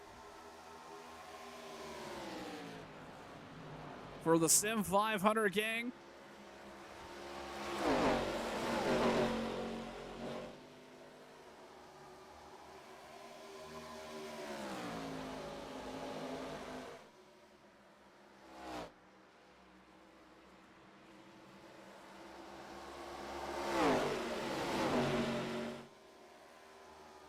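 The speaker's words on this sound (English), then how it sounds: "Some exciting racing all up and down the racetrack in these ARCA cars." ARCA race cars racing in a sim racing video game: engines rise and fall in pitch as cars pass, with revving surges and a brief loud burst early on, while a voice talks over part of it.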